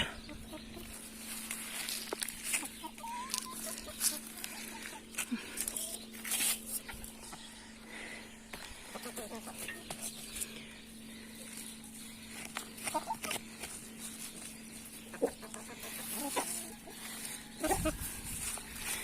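Chickens cluck softly in the background among scattered outdoor rustling and faint noises, with occasional talk nearby.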